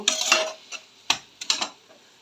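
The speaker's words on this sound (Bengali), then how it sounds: "দিয়ে দিচ্ছি পোস্ত বাটা আর সর্ষে বাটা একটু নাড়াচাড়া করে নেব মিশিয়ে নেব" Poppy seed paste and mustard paste being stirred into boiled vegetables in a pan, with a few short scraping, clinking strokes spaced over about two seconds, close and moderately loud, with no talking.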